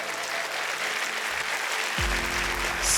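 A convention crowd at the Furovision show at NordicFuzzCon 2025 applauds last year's winner, steady moderate clapping that swells slightly louder near the end as a low tone enters.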